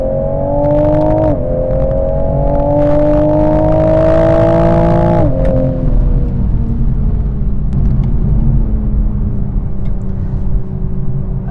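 A 2024 Toyota Supra's 3.0-liter inline-six with 382 horsepower pulls hard in manual mode: a loud, close engine note climbs steadily in pitch, and two quick upshifts each drop it before it rises again.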